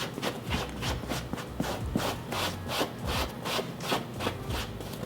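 Rhythmic rubbing strokes of an eraser on a suede boot, a dry scratchy back-and-forth scraping repeated steadily about twice per second, close up.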